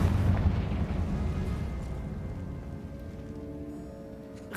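A Confringo explosion spell in Hogwarts Legacy lands as one heavy blast at the start, then rumbles and crackles away into a fading tail.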